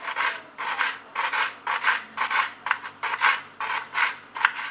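Knife cutting vanilla-flavoured pastry dough into small pieces, a steady series of short rasping strokes, about a dozen cuts in quick even rhythm, close and clear with no talk.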